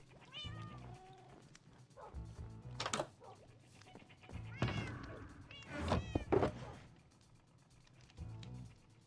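Cats in the video game Minecraft meow repeatedly, with several short, rising and falling mews spread across the stretch and a few thuds in between.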